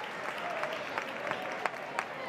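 Crowd at a women's Champions League match at the Mini Estadi applauding a Barcelona player's return to the pitch, steady moderate clapping from a distant stadium audience with a few sharper claps standing out.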